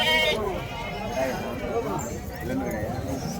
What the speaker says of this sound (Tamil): செம்மறி ஆட்டு கிடா.